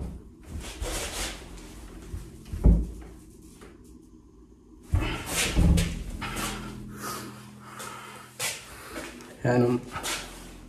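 Jammed interior house door rattled and yanked repeatedly at night, producing bursts of clunks and handle clatter, close by, with someone talking between the attempts.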